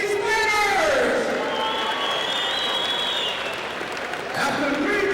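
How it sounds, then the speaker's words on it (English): Loud crowd applause and cheering fill a fight-night arena after a Taekwondo and Muay Thai event's winners are announced, with steady clapping and cheers and an announcer's voice rising over the crowd. "let's give a round of applause for both of these winners!"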